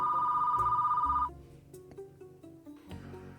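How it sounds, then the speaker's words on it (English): A telephone rings at an office desk: one loud, steady electronic ring bursts for about a second, then cuts off, leaving only faint low rustling. "my phone rings"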